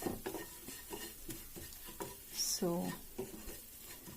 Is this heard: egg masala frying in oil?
yes